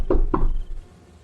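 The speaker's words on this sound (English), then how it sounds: "so I just knocked really hard" Two hard, heavy knocks on the front door of a building, close and thudding, spaced about a quarter second apart, followed by a fading low rumble.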